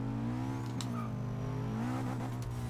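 A pizza delivery car in Forza 6 accelerates gently, its steady engine drone holding a low pitch with a slight rise midway. The sound is continuous and fairly quiet, with no voices.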